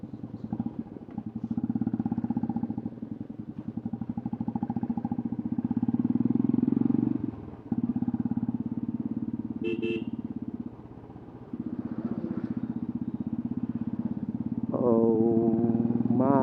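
A new motorcycle engine idles and revs close by with a rough, continuous rumble that briefly dips and resumes, while traffic and a horn sound nearby and a voice speaks near the end.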